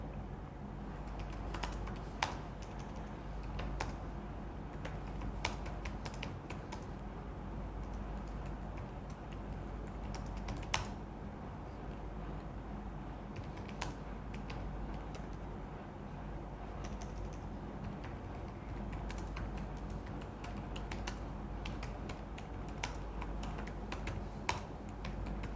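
Steady typing on a computer keyboard with soft, rapid key clicks and occasional sharper taps, close by and continuous over a low background hum, no talk.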